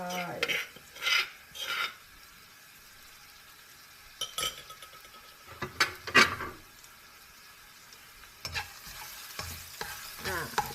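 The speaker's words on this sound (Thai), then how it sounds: "ผัดกระเทียมให้เขาหอมหอม" Garlic being stir-fried in a pan on a home stove, with bursts of spatula scraping and stirring over a low sizzle, close and moderately loud, with quiet gaps between the strokes.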